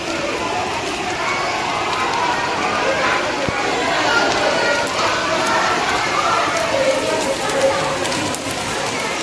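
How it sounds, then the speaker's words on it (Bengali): Heavy rain pours down in a dense, continuous roar of drops striking surfaces, loud and steady, with people chattering and talking under it. "প্রচন্ড জল বৃষ্টি হচ্ছে।"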